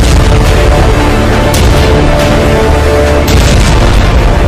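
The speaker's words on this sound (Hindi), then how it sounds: "हिजबुल्लाह के रॉकेट धमाके हाइफा में हाहाकार मचा रहे हैं" Rocket explosions from Hezbollah fire over Haifa during wartime, a continuous loud, dense low rumble with sustained booming and crackling throughout, no clear separate blasts.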